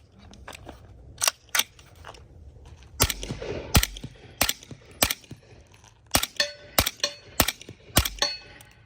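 Honey Badger rifle firing 200 grain S&B subsonic ammunition, a series of sharp suppressed cracks and clacks, some spaced apart and others in quick succession, heard alone at close range.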